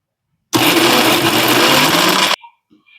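A kitchen mixer grinder runs loud and steady for about two seconds, grinding a homemade mixture, then cuts off abruptly, followed by faint clatter.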